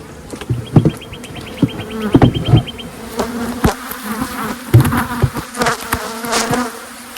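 Honey bees buzz steadily up close during a hive inspection, a dense insect drone with scattered knocks and clicks from handling the hive.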